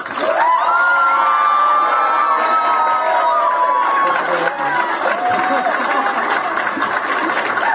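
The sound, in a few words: crowd applause and cheering for Tara Samples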